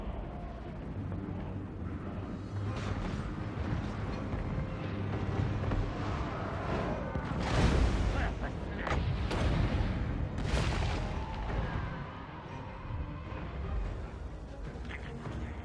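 Poison mortar artillery fires in the Total War: Warhammer game, a Clan Eshin Skaven campaign: dense battle rumble with booming blasts clustered around the middle, over continuous low roar and clatter.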